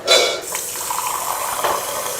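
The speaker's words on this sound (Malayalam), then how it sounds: "ഇതിലേക്ക് ഇനി വെള്ളം ചേർക്കാം" Water poured into a pan of chilli chicken gravy, a steady close splash and trickle after a brief louder onset, running continuously with no talking.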